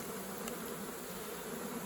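Honey bees buzz densely around comb inside a swarm trap, a close, continuous high drone that stays level and unbroken throughout, with no voices.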